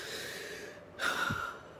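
A shallow, sharp gasping inhale demonstrated by a single person, one quick breath in, close and fairly loud, with no talking.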